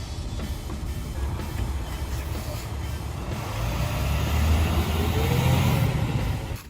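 A converted school bus, a skoolie, drives up a road toward home, its engine rumble growing louder and closer over several seconds, with some wind noise.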